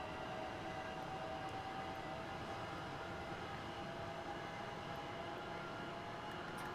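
A fictional Southern Class 465 electric train in a train simulator game running between Brighton and London Victoria, a faint, steady rumbling drone with a thin tonal whine and no talking.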